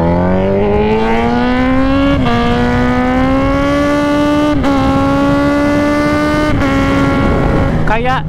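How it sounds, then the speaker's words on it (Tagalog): A Z1000 inline-four motorcycle engine pulls hard through the gears, its loud buzzing tone climbing steadily and dropping briefly at each of three shifts, close and continuous. "hindi naman sa walang makapantay sa tunog ng Z1000"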